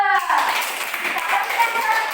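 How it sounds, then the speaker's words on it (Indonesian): Classroom of children clapping together after a group activity, a brisk burst of hand claps close by that blends with youthful voices chattering over it. "Tepuk tangan dulu."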